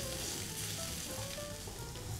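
Three crushed garlic cloves frying in a thin layer of oil at the bottom of a pot, giving a steady, close sizzle that holds evenly throughout with no talking.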